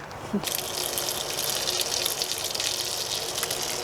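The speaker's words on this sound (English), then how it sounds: "So I'm going to shut the water off, take the pressure off, and then take this out." Pressurized water hisses and gushes out of an RV water filter housing as the pressure is released, a steady close rushing spray that begins abruptly and continues unbroken.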